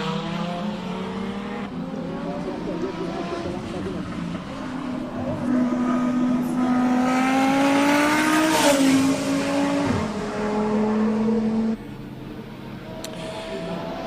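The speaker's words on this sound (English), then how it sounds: "The Audi of Giovanni Fantin." Audi race car at the Simola hill climb, engine note rising through the gears as it accelerates uphill, with a brief tyre chirp and a sharp shift around the middle before the loud run eases off.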